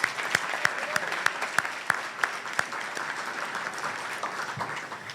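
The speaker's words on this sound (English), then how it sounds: "Let's give her and them a round of applause." An audience gives a round of applause at an awards evening, steady crowd clapping with a few sharp, louder claps standing out near the start, continuing evenly throughout.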